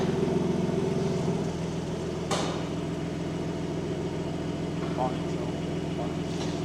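A BMW M4 G82 car runs steadily with a low, even engine drone throughout, a brief rushing swell near the middle, and talk faintly underneath.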